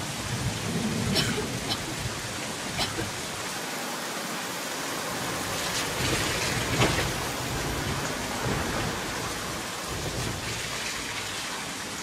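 Steady rain and thunder from a thunderstorm fill the scene, with broad constant hiss and low rolling rumbles, no talk over it.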